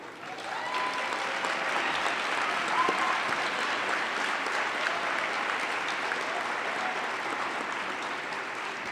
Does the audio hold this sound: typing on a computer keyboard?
no